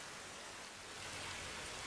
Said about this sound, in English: the rain sounds incredible